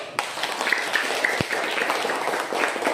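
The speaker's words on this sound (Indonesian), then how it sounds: "Mari kita tepuk tangan dulu." Hands clapping together in a classroom, a steady continuous round of applause from a group of students, fairly close and even in loudness throughout.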